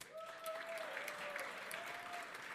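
Steady audience applause with scattered cheers fills a live stage show, loud and continuous throughout, with a faint tone held in the background.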